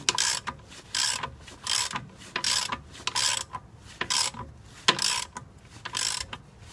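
Ratchet wrench turning a tapered transmission mount bolt on a ZJ with a 5.2L engine and 46RH transmission; repeated rapid clicking bursts in a steady back-and-forth rhythm, close and crisp.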